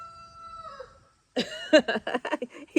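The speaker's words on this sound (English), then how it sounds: "I love having a rooster." A pet rooster crows loudly and close by, a few rising and falling calls in quick bursts after a brief quiet stretch.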